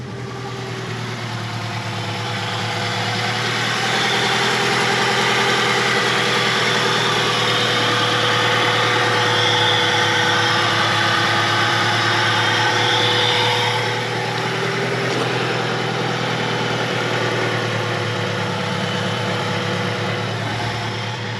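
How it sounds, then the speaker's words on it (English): A Honda Civic engine idles steadily after a cold start, a loud, close, continuous hum with a slight rise and fall in level and no voices over it. "okay for a idle, cold start idle"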